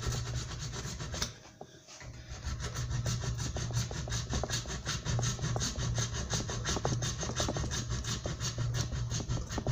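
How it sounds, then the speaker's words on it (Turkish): Hand hacksaw cutting through a broken tap piece lodged inside a threaded metal part, a steady rapid back-and-forth rasping close by, briefly pausing near the start and then continuing without a break. "Şu şekilde demir testeresi yardımıyla içeride kalan parçanın bir tarafından kesiyoruz."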